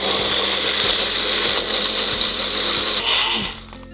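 A blender whirs loudly and steadily as it grinds cooled misal masala spices with a little water into a paste, then winds down near the end.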